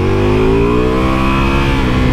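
Ducati Multistrada V4 Rally motorcycle engine accelerating on the road, a loud, steady close-up drone whose pitch sweeps smoothly upward through the gears without pause.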